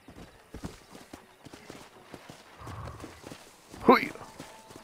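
Horse hooves clip-clopping in the Western video game Red Dead Redemption, a steady walking patter of hoofbeats with a short whinny near the end, while someone talks over it.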